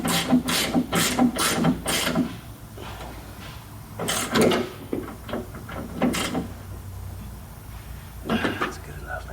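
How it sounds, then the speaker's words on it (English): Ratchet wrench turning the top bolt of a rear shock absorber on a 1963 Lincoln, a series of close clicking ratchet strokes in bursts with brief pauses. "You can't really get a gun on them, so we're just going to use our ratchet wrench to get in there."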